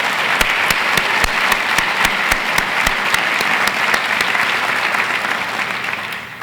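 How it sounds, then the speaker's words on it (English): A large audience claps steadily at a university's State of the University address, a dense even wash of applause with a few sharp individual claps standing out, easing slightly toward the end. "Let's give that a hearty round of applause for moving up 6 spots in 1 year."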